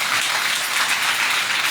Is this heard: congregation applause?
yes